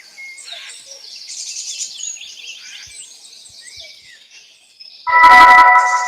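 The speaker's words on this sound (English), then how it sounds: "Oh yeah, there's birds over here." Synthetic birdsong in a WebXR virtual mall website, several bright chirps and tweets scattered across a few seconds, followed by a louder, harsher tonal burst at the end.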